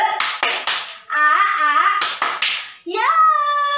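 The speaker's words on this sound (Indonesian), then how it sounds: "kita mau tepuk ceria dulu" Second-grade schoolchildren in class chant a cheerful rhythmic clapping routine together, with bursts of group claps and sung syllables in close, lively succession.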